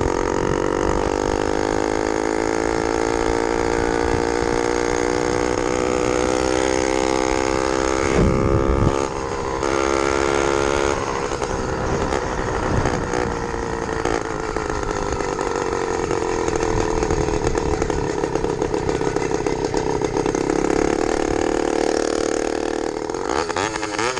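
A small motorbike engine with a JB Weld-repaired piston runs hard, a loud buzzing two-stroke whine that holds steady, blips and surges with throttle changes, heard close up with no talking.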